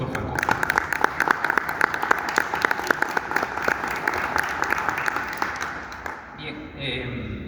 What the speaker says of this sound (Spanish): Recibamos por favor con un aplauso